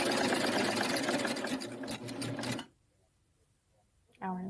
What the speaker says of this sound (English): We're going to sew a little bit farther.